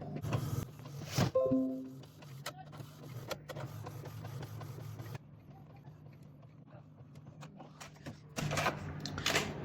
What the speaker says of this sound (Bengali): পিভিসি কার্ড অলরেডি প্রিন্ট শুরু হয়ে গেছে।